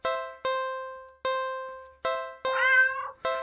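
A cat in an indie horror video game meows repeatedly, each call starting abruptly and fading, with one longer, wavering meow near the end against silence.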